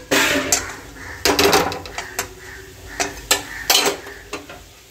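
Washed, drained rice with tomato and salt is stirred in a pan, with repeated sharp metal scrapes and clanks of a utensil against the pan over a faint sizzle.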